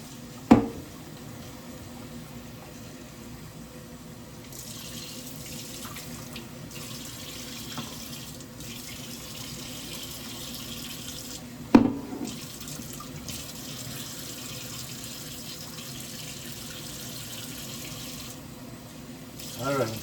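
Food being rinsed under a running kitchen tap, a steady stream of water splashing into a sink for the whole stretch, with two sharp knocks of dishes or a bowl against the basin.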